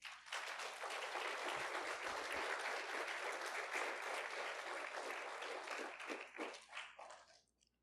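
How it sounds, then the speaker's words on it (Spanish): Church congregation giving a sustained round of applause, a thick, even wash of clapping that holds for several seconds before thinning and fading out at the end. "Dale un aplauso a Cristo."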